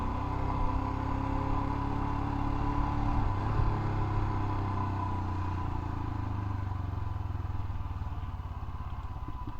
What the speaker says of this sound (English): This motorcycle is just a blast to ride when the weather is good